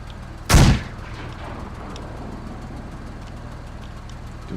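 A single loud grenade blast in the sci-fi tactics game Menace on a desert planet, a sharp boom that fades quickly over a low steady engine-like hum.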